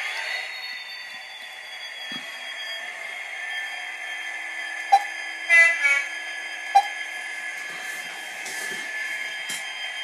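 A small model train runs with a steady whirring hum, punctuated by a few brief clicks and a short burst of clatter midway.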